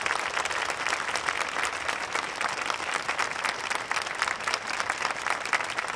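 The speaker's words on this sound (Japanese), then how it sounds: "立命館高校吹奏楽部の皆さんに今一度大きな拍手をお送りください。" Concert hall audience at the ROHM Music Festival 2018 giving steady, dense applause after a Ritsumeikan High School brass band performance, an even wash of clapping throughout with no voices.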